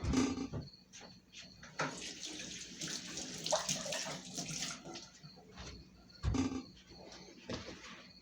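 Water runs from a tap into a glass in uneven bursts, gushing and splashing close by with brief pauses between pours.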